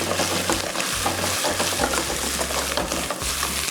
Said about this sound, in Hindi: आपने मटन को अच्छे से जो है